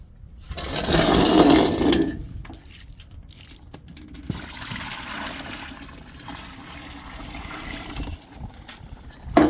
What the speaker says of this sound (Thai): เทน้ำลงไปค่ะ